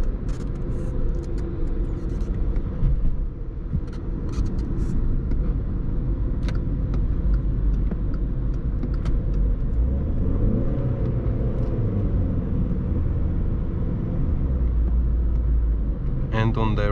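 VW Polo V 1.6 TDI 90 HP diesel with 7-speed DSG cruising through city streets at low RPM, a steady low engine drone with road rumble and occasional soft shifts in pitch.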